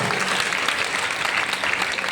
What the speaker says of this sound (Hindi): तालियां कब रह गई आपकी फिर एक बार।